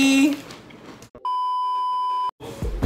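A phone gives a single clear electronic beep as video recording stops, steady and sustained for about a second, set apart by brief silence from the louder background noise around it.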